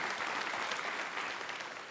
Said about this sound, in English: that's something to applaud